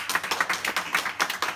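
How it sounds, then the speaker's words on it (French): A quiz-show audience claps for a contestant who gave a correct answer: a small group's scattered, distinct handclaps in an uneven rhythm, close and moderately loud, with no voices over them. "Bravo, on l'applaudit bien fort."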